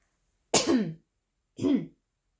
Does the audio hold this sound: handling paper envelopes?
no